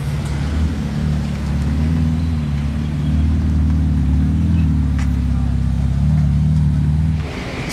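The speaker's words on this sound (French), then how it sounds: "Il a fait une accel dans la descente ou quoi?" A car accelerates down a slope, its engine droning loud and steady with rising, shifting pitch throughout, close by and without talk.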